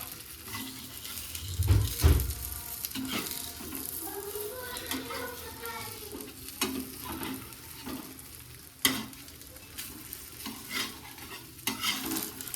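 An omelette cooking in a frying pan, with a low steady sizzle broken by clattering scrapes and knocks of a utensil against the pan, a loud thump early on, and faint voices in the background.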